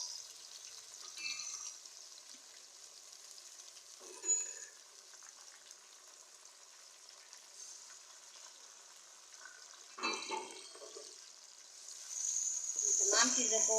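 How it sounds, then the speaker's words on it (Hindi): Onions, tomato, garlic-ginger paste and spices frying in a pan for chicken masala, a faint hissing sizzle with occasional scraping stirs, swelling louder near the end. "तमाम चीज़ों को डालकर हम अच्छी तरीके से भून लेंगे।"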